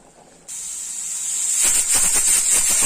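A pressure cooker whistle, with mutton cooking inside, starts abruptly as a loud, steady high hiss of venting steam, growing harsher and sputtering toward the end.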